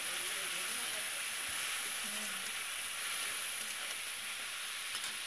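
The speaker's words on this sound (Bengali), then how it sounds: "একটু জল দিয়ে কষিয়ে নেব" Potatoes with salt, turmeric and a splash of water sauté in a pan, giving a steady close sizzle and hiss throughout with faint stirring underneath, no talking.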